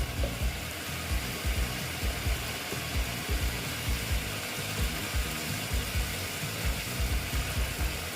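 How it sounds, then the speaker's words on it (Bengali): Fried small fish are added to a hot cooking pan with potatoes, and the oil gives a dense, steady sizzle with a regular clicking rattle running through it. "এইবার আমি মাছগুলো যে ভেজে রেখেছিলাম মাছগুলো দিয়ে দিলাম"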